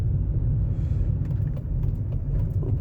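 A car pulls away and accelerates with a loud, steady low engine rumble that stays close throughout and carries no voices.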